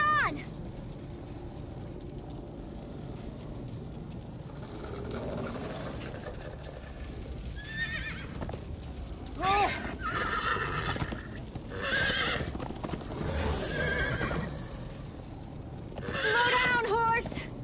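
A horse in the Minecraft Story Mode video game gallops with rapid clip-clop hoofbeats and lets out several sharp whinnies, loud and close, while characters talk and shout over the action.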